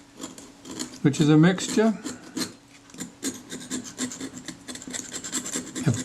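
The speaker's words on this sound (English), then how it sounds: "using the back edge of that scalpel blade so it doesn't dig into the aluminium to any great extent. Just scraping that rubbish loose" A scalpel blade's back edge scrapes corrosion, leatherette and adhesive off an aluminium camera body in short raspy strokes, close up, with someone talking over part of it.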